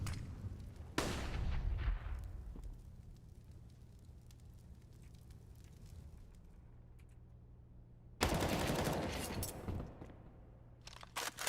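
Gunfire in a PUBG esports match, two loud sharp bursts of shots separated by several seconds of quieter game ambience.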